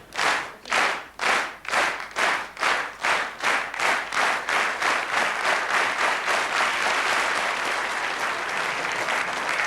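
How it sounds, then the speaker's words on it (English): Rhythmic audience clapping at a BBC sports awards show, starting as slow, loud, distinct unison claps that speed up steadily until they blur into continuous applause. "Bit of clapping."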